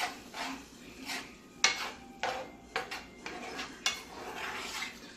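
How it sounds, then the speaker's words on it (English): A spoon stirs an added spoonful into an Alfredo sauce in a pan, giving soft scraping and clinking against the metal in several irregular strokes, close and moderately quiet, with no talk. "Stir that in."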